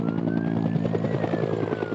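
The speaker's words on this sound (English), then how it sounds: "these choppers dropping water onto a blaze at Broadmarsh" Helicopters fighting a bushfire at Broadmarsh by dropping water give a loud, steady, rapid rotor thudding with a whining engine tone that holds throughout, with no voices.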